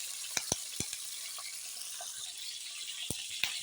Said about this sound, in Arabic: الزيت كده انزل كده بكميه الفراخ. زي ما انتم شايفين وسامعين الصوت بيكون عامل كده